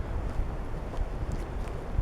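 Wind buffets outdoors around a newly pitched tarp, a dull gusting rush with low rumbling swells, fairly quiet and without speech.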